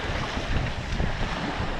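Wind at the beach, a constant loud rushing roar buffeting the microphone with gusty swells, likely mixed with surf, no voices.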